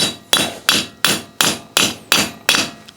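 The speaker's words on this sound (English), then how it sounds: "you could now just take a hammer and send them home" A 2-pound hammer strikes a bearing race over a socket eight times in an even rhythm, each sharp metallic tap ringing briefly, close and loud, during a Dana 44 rear disc brake conversion on a CJ2A.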